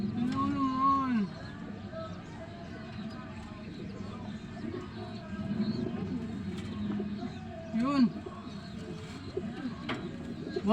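Racing pigeons at a loft coo softly in a low, steady murmur through the whole stretch, with several distinct coos rising above a busy ambient background and a brief voice speaking once.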